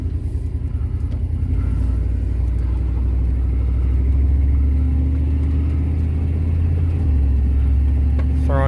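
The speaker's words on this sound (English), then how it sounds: "Alright, so let's go on the test drive here and pull out for the first time" A car with a 454 engine, freshly fitted with a new coil and distributor, idles and pulls out for a test drive on a muddy driveway; a loud, close, steady low engine rumble runs throughout with slight revving.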